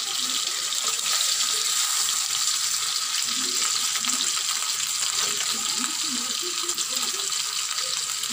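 Pieces of a large 2.5 kg rui fish frying in hot oil in a kadai as they are turned, giving a steady, close sizzling hiss that runs unbroken from start to finish.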